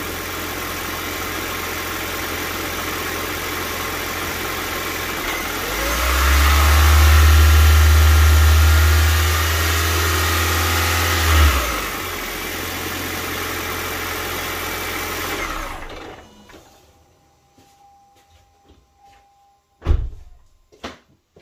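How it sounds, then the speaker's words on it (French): A hybrid car's petrol engine, fitted with an ethanol conversion box, idles steadily, then surges loudly in a held rev of several seconds before settling and cutting off, followed by a few faint clicks and a brief thump. "je vais mettre quelques coups de gaz pour voir ce que ça donne"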